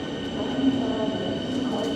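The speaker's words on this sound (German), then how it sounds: "Da ist eine S-Bahn." A Berlin S-Bahn train rumbles at Südkreuz station, a steady low drone of the moving train with a faint squealing tone above, heard in the station hall.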